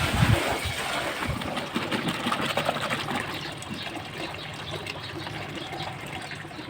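Clothes are washed by hand in water, with continuous splashing, sloshing and gushing at close range, heaviest at the start and easing off.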